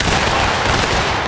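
A musket volley rings out in War of Rights, a loud, dense crackle of many shots fired together at close range, filling the brief moment with harsh gunpowder noise.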